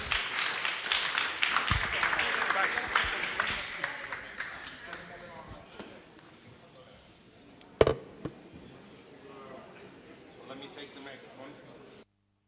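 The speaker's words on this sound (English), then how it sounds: "Please, an applause to Marco Trombetti." A conference audience at a round table on artificial intelligence applauds a speaker coming on stage. Thick clapping fades over several seconds, then scattered claps and murmured voices remain until it ends.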